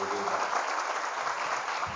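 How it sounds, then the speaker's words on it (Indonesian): Crowd applause at a Heroes' Day motivational event in an Islamic boarding school in Tangerang, a steady dense wash of clapping sustained throughout with a faint voice underneath early on. "Tepuk tangan untuk kita semua."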